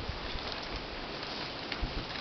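Rain falls at La Malinche as a steady, even hiss with faint scattered patters, alone and continuous, with no talking.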